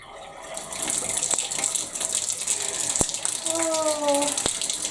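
Water runs steadily from a newly fitted wall-mounted bath tap, a continuous hissing gush that lasts throughout, with a few sharp clicks and faint tonal squeaks near the end.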